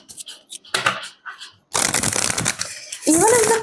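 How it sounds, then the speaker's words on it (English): Tarot cards being shuffled by hand, a few short choppy riffles followed by a longer continuous shuffling burst, close and crisp. "Let me do another shuffle."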